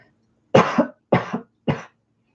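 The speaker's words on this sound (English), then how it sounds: "Excuse me, I think I'm gonna cough." Three separate harsh coughs, close and fairly loud, spaced about half a second apart with a short pause after each, alone in a quiet room with no other voices.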